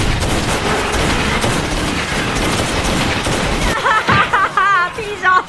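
Rapid gunfire fills a movie scene in which men shoot at a crocodile, a dense burst of shots that stops abruptly, followed by brief voices and scattered mechanical clicks.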